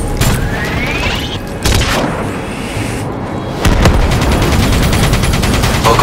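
Loud, close rapid-fire rattling of a minigun in Call of Duty: Black Ops III, a steady stream of shots broken by short pauses, then a heavier sustained burst at the end, with booming impacts mixed in.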